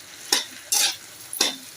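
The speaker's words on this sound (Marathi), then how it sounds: "परत छान असं मिक्स करून घ्यायची आपली भाजी." Potato bhaji being stirred in a pan, three short scraping strokes spaced apart, close and fairly loud with a light sizzle in between, no voices.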